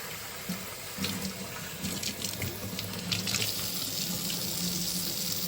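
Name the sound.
rinsing red kidney beans under running tap water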